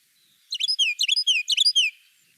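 A Carolina wren sings a loud, close, clear song of three quick rolling phrases, each a rapid run of bright whistled notes, with nothing else audible around it.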